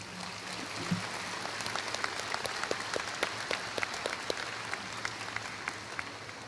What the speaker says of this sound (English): Let's give them a heartfelt applause for all they have done.